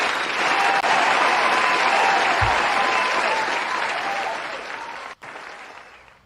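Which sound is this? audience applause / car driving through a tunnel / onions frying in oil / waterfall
audience applause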